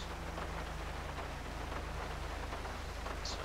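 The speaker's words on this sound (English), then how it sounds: "A little rainy today" Steady rain falls in the Los Angeles streets of GTA V with the LSPDFR police mod, a constant even hiss that fills the scene with no other sounds standing out.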